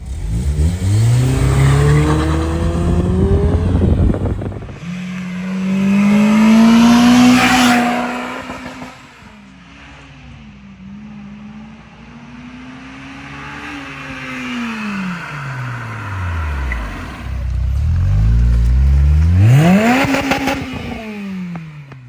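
A loud Acura RSX Type-S with an HKS Hi-Power exhaust revs repeatedly, its pitch climbing and falling in long sweeps, with no talking.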